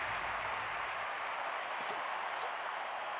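Crowd applause rises from stadium fans in a London 2012 Olympic video game after a diving attempt under the bar, a steady wash of clapping heard throughout.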